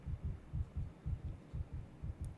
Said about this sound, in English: His heartbeat is fast.